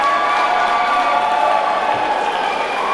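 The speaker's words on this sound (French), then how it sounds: "La foule qui reconnaît le catcheur Amish" A wrestling crowd cheers for the wrestler Amish at a live catch show in Toulon: a dense, loud, continuous roar of voices and shouts filling the whole short stretch.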